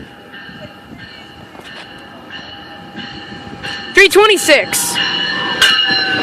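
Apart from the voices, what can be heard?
GO express train passing through Danforth station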